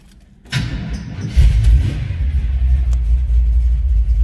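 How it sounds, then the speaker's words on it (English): A 1972 Chevrolet Chevelle Malibu engine cranks and catches after a brief quiet moment, then settles into a loud, deep, rumbling idle close by with a slight rise as it revs. "Let's go ahead and fire this up so you can hear it run."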